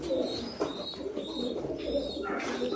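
Tumbler pigeons cooing in soft, repeated throaty calls that overlap closely, with faint background murmur.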